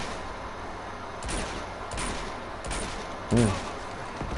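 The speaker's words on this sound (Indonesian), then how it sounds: "Baru belum apa-apa udah ada baku tembak aja." Gunfight in Uncharted: Drake's Fortune, a few scattered, fairly faint shots popping at irregular intervals over steady game ambience while a voice briefly speaks.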